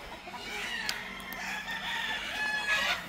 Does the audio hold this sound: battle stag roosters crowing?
yes